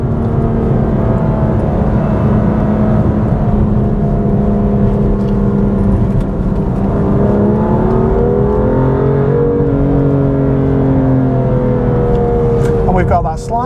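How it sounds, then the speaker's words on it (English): A BMW M2 Competition engine in the cabin, droning loudly and steadily, then the revs sweep up quickly during a rev-matched downshift, with the exhaust and engine note rising and settling. "The revs come up a little bit quicker on the down change. There, you can hear it raising the revs."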